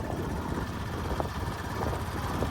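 A tractor passing by gives off a low, steady engine rumble at moderate distance. It hums on without a break and no one speaks.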